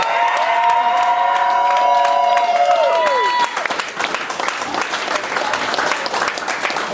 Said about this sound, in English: can we get another round of applause going for Aaron Torres?